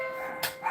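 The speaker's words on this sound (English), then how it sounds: "My dogs are going to go nuts when the doorbell rings." Pet dogs indoors give a couple of short, sharp barks close by, reacting to a doorbell, clipped and loud in a brief burst.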